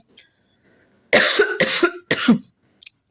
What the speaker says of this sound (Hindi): मुझे खाँसी आना शुरू हो गई है